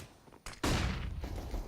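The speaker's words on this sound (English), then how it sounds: "Big flashbang, but there's no peek from Sicko." A flashbang grenade goes off with gunfire during a competitive video game match: a sudden loud bang breaks a near-quiet moment and leaves a sustained, dense noisy wash afterward.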